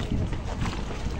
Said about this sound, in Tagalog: Nag-aalog-alog, malakas ang hangin.